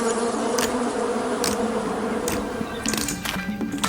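A dense swarm of bees drones continuously, loud and close, with individual buzzes swelling and passing by.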